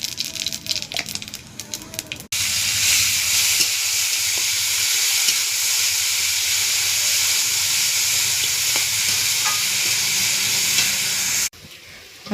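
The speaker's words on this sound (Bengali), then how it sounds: "একটু হালকা জিরের ফোড়ন দেব।" Cumin seeds tempered in hot oil in a heated wok sizzle with a loud, steady hiss that starts abruptly and holds for about nine seconds, with faint stirring rattles, then cuts off.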